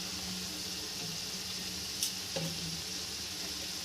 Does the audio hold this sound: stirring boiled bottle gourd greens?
yes